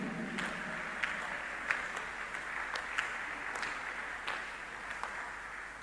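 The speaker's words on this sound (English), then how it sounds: "Clap before I continue." Church congregation clapping during a prophet's sermon, a soft continuous patter of many hands in a reverberant hall, with a few louder individual claps standing out at irregular intervals.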